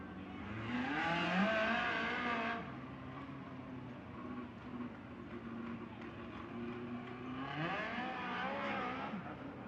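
USAC midget race cars lapping Merced Speedway at night, a pack of engines roaring loudly past, fading to a steady drone, then swelling again as more cars approach, with faint commentary underneath.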